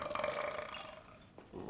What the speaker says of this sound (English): I've heard some mighty burps in my time